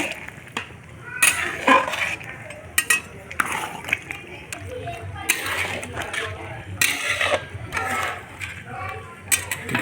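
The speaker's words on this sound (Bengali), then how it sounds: "আরও মিনিট দুয়েক ভালোভাবে কষিয়ে নিব" Young goat mutton with ginger paste is sautéed and stirred in a pan, a close, uneven series of scraping clanks and metallic knocks from the spatula over a low sizzle, repeating every second or so.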